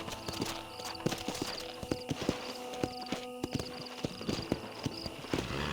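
Horse hooves clip-clop steadily in Red Dead Redemption, a rhythmic trot of close, fairly loud thuds repeating throughout, with a brief whinny-like cry mixed in over a soft ambient game background.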